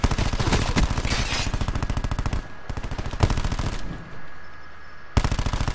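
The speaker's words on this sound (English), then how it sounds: "War machine gun." Rapid automatic machine-gun fire from a first-person shooter game using the Cordite weapon, loud and close, with sustained bursts broken by brief pauses.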